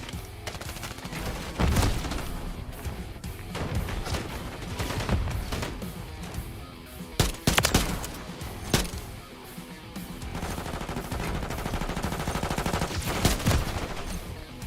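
Dense battlefield gunfire from a video game: rifle shots and bursts overlap almost without pause across the whole stretch, with a few louder near cracks and thuds standing out from the steady volley.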